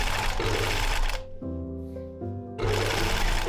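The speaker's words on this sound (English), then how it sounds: "both side pieces were sewn together with the back piece to create one large skirt panel" A sewing machine stitches skirt pieces together in a steady, close mechanical whir, running in short stretches between quieter pauses with background noise around it.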